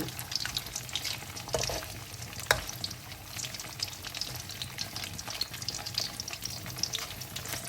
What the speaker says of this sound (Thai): เดี๋ยวทอดไปเรื่อย ๆ นะคะ